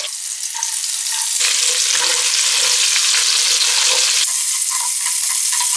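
Chopped spring onion whites fry in a hot pan with ginger, garlic and green chillies, giving a loud, steady sizzle that swells and eases as the pieces are stirred, with no voices.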